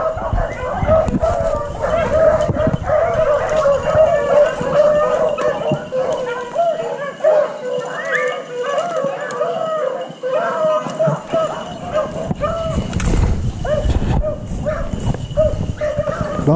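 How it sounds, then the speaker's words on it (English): A pack of beagles bays and yelps continuously while chasing a rabbit outdoors in Kansas, a loud, overlapping chorus that stays steady and close throughout. "Dogs almost caught one, but that's a different rabbit than what they're running now."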